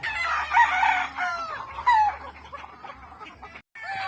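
Roosters crow loudly and close by, with several drawn-out calls in a row, and chickens cluck in between.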